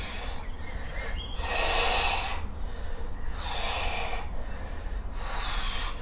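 Heavy, forceful breaths during an at-home back and shoulders AMRAP workout, coming close and loud in three long rhythmic bursts with short pauses between, no talking.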